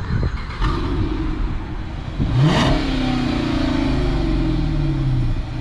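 A Chrysler 300C with a 5.7-litre V8 rumbles at idle, then revs hard in one rising, roaring sweep that settles back into a steady, loud burble close by.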